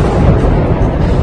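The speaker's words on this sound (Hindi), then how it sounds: "कीव के अर्सेननाया मेट्रो स्टेशन पर धमाका हुआ।" Explosion at Arsenalna metro station in Kyiv during a missile attack, heard as a loud, sustained deep rumbling roar with dense low-end boom filling the whole moment.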